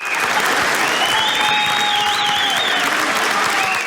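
Crowd applauding steadily at a public meeting about a proposed Oklahoma turnpike, dense continuous clapping that stays loud and even throughout, with faint voices mixed in.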